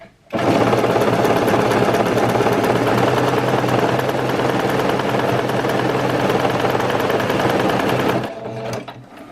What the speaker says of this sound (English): So I will make a dense zigzag where the length of the stitch is shorter.